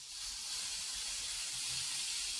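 A paint spray gun at about 10 to 12 psi coats an old fuel tank, giving a loud, steady, unbroken hiss of air and atomized paint from start to finish.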